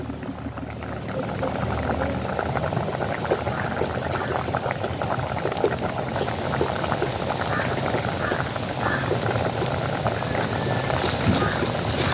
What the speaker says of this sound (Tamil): கொதிக்க தொடங்கிடுச்சு.